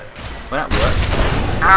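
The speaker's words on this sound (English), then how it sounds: "Too close to the explosion!" A loud burst in the Fallout 4 video game, a sharp blast followed by a rumbling, crackling tail, with a voice briefly over it.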